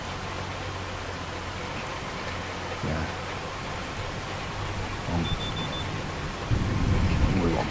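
Steady rain in Farming Simulator 25 falls as a soft, even hiss across the whole stretch, with a low drone and a few brief spoken words rising over it near the end.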